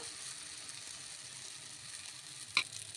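Green moong dal dosa batter spread on a pan with a little hot oil, giving a faint steady sizzle with one brief sharp clink near the end.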